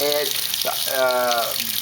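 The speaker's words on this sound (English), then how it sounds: "Now it's adding more water." Water runs steadily into a Maytag Centennial HE top-load washer, model MVWC415, a continuous rushing fill with shifting tonal swirls as it streams onto submerged clothes, close and fairly loud throughout.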